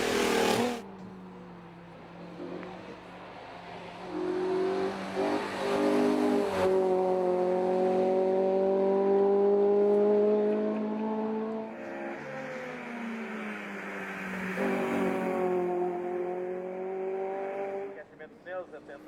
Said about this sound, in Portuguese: Ford Score, carro icónico das competições automóvel, quer em velocidade, quer em rallies